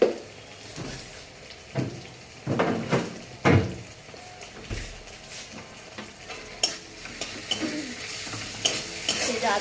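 Garlic fries in a pan as a spoon stirs and scrapes it, giving a soft steady sizzle with repeated sharp utensil knocks against the pan, close and fairly quiet.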